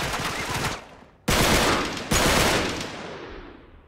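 Gunfire in the video game Uncharted 3 on PS4, loud continuous automatic bursts broken by a brief lull, then two abrupt restarts of heavy firing that slowly fade.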